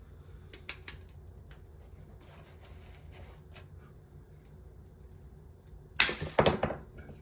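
Pruning shears snip thick fig branches into cuttings, giving a few light clicks early on and then a louder burst of crisp snapping cuts near the end, close by over quiet background.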